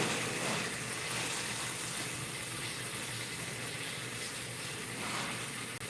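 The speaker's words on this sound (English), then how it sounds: "we got to rinse our bok choy off" Bok choy rinsed under a running kitchen tap, a steady, even rush of water held close and constant for several seconds.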